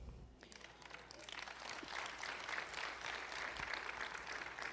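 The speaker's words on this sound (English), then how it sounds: "Thank you for the claps." An audience claps in a steady, sustained wash of applause during a keynote speech at a Black History celebration.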